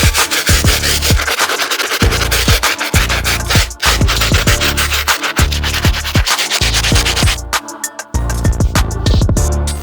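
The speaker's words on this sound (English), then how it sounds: "Final brush, the stiff bristle brush. For this one, we're gonna be taking care of these outsoles to get them back to original white." Stiff bristle brush scrubbing the grippy outsoles of white mesh sneakers: loud, close, rhythmic back-and-forth scratching strokes in quick succession, briefly pausing near the end, with no talking.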